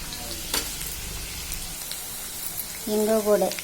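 Onions, curry leaves and green chillies fry in a pan with a steady, close hiss that runs throughout, and a voice speaks near the end.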